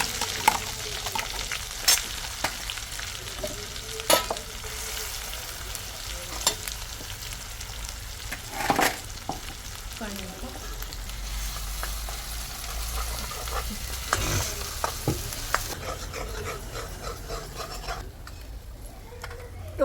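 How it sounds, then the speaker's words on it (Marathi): Masala paste with cumin seeds frying in plenty of oil over a wood-fired village stove, a steady broadband sizzle broken by frequent stirring clatters and scrapes, fairly close and continuous throughout. "हे बघ आता जिरे टाकले ओके आणि वाटण परतून घेते तेल भरपूर वापरायचं"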